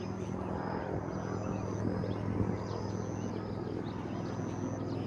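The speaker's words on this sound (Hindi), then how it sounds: "ये अभी आप हेली की आवाज़ सुन रहे हैं, यहाँ डेली सर्विस चलती है हेलीकॉप्टर देहरादून से चिन्यालीसौड़।" A helicopter on the daily Dehradun to Chinyalisaur service in Uttarakhand flies overhead, a steady, loud rotor and engine drone holding throughout with no voices.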